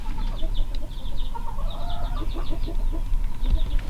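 A hen clucks softly among her chicks on a homestead, with repeated low clucks and thin high peeps close by over steady outdoor background noise.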